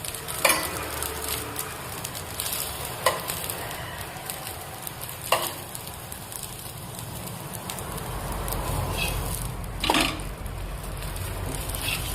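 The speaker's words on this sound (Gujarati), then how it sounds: "હું તેલમાં જ બનાવું છું, સિંગ તેલમાં જ બનાવું છું" Aloo paratha frying in peanut oil on a home stovetop gives a steady, fairly close sizzle with a few sharp crackles and spatula scrapes.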